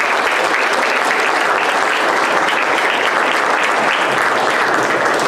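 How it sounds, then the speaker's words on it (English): A large crowd at a city pipeline grant press conference gives loud, sustained applause for visiting dignitaries, an even, continuous wash of clapping with no break across the whole stretch. "let's give one more round of applause for our dignitaries that were able to come this back."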